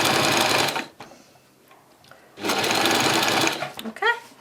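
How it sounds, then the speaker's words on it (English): Sewing machine stitching yarn onto fabric for a crafted pony's neck, two loud steady whirring bursts separated by a near-silent pause, with a faint voice at the end. "sewing close to the edge of the fabric, simply stitch the yarn"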